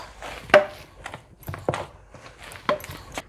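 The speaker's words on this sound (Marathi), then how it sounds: "हे टाकलेलं तिखट मीठ आता आपण एकजीव मिश्रण करून घेणार आहोत" Potato chakli dough for a fasting snack is worked by hand with salt and red chili, producing irregular close thuds and squelchy slaps of the soft mass, with quiet gaps between them.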